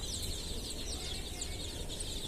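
Chickens and chicks clucking and cheeping in a steady, busy chorus, fairly close, with no talking.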